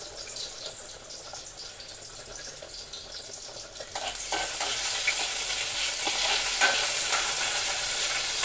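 Finely chopped onion hits a spoonful of hot oil, a quiet background hiss jumping at about four seconds into a louder, steady crackling sizzle that holds to the end, with no one talking.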